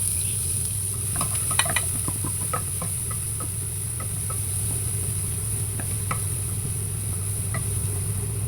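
Onions frying in oil in a pan for a prawn curry with coconut powder, a steady soft sizzle running throughout with scattered small crackles and pops, close and moderately loud, with no talking.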